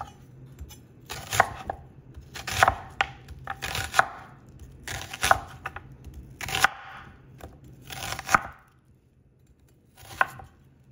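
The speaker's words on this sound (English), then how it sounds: "So we're just going to slice these so that they're just nice and thin as well" A knife slices bell peppers thin on a cutting board, about eight crisp separate chops in a steady rhythm with short pauses between them, close and clear with no talking.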